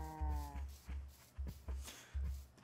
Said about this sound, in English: I finally got back with one of the cows.